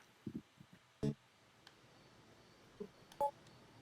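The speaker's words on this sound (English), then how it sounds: "Oh, I received a phone call." Telephone call tones from the game Sonic 3D Blast: a few short electronic beeps and dial-like blips, spaced irregularly over quiet background with no talking.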